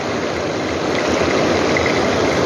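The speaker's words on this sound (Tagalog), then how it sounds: "Sa lakas ng baha, hindi talaga yung tulay, madaanan" Strong floodwater rushing steadily past a flooded bridge crossing, a dense, unbroken roar of churning water that stays loud throughout with no voices.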